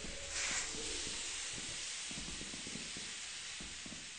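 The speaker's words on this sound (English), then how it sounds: "I really don't want to deal with the steam" Steam hisses in the co-op horror game Lethal Company, a continuous broad, airy rush that stays steady and fairly loud throughout, with faint low thumps underneath and no talk.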